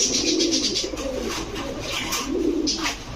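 Kaldom pigeons coo in low, throaty bursts, two rounded calls close by with a soft chirp between, set against faint background noise in a pigeon shop.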